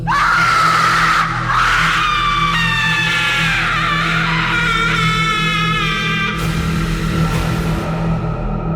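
A long, loud, piercing scream rings out continuously, rising and wavering in pitch, harsh and close.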